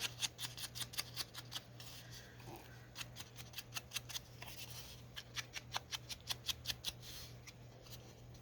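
Scissors snipping through paper card for a pocket tag journal card, a fast train of crisp, fairly faint cuts in bursts over a steady low hum, with no talking.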